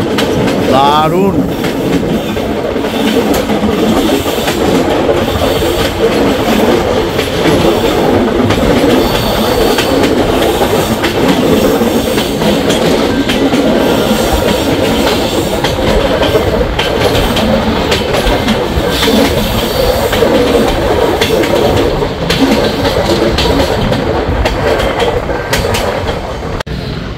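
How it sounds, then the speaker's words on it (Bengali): Kanchanjungha Express LHB coaches rolling on rails toward Lumding Junction, a steady loud rumble with rhythmic clickety-clack of wheels over joints and occasional faint squeal, heard from inside the train. "আমাদের ট্রেন জাস্ট কিছুমাত্র হলো যে লামডিং জংশনে এলো, লামডিং এর 5 নম্বর প্ল্যাটফর্মে এলো"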